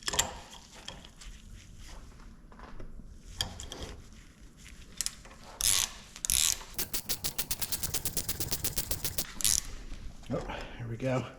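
A hand ratchet tightens a Ford nut on the left rear shock absorber of a 2011 Ford Fiesta, giving a fast run of close, crisp clicks in the middle, with bursts of speech and clanking tool handling around it.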